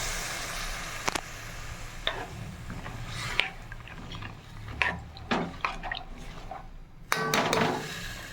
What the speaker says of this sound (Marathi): आता याच्यामध्ये शिजण्यासाठी 1 ग्लास पाणी ॲड केलं